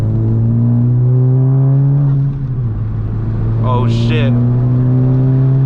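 A 2020 Honda Civic Si with a PRL downpipe accelerates hard, its exhaust droning through rising then shifting engine tones heard from inside the car, with a brief exclamation from a voice partway through.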